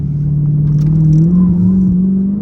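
Dodge Challenger SRT8 V8 engine running under load while driving, a steady deep rumble rising slightly in pitch as it revs, loud and close with no talk.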